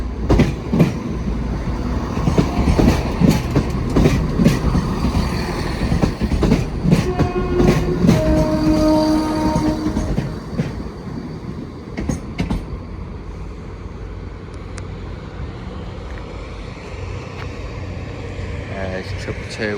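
A Class 222 passenger train, 222 102, departing Sheffield station for St Pancras International; loud rumbling wheels and clattering rail joints with brief squeals, fading to a quieter hum as it pulls away, with a voice heard over it.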